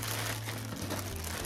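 Plastic packaging around a Kuromi hoodie crinkles steadily as the package is opened, a continuous close rustle lasting a moment.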